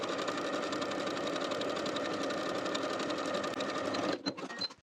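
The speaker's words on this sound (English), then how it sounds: "Now I'm going to sew right along my finishing stitches all the way around for both pant legs to complete the hem." Sewing machine stitching the hem of pleated pant legs, a steady close motor whir with rapid needle rhythm running continuously, then slowing and stopping near the end.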